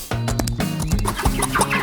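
A hen clucks several times in quick, choppy bursts, close and fairly loud, with scratchy rustling in between.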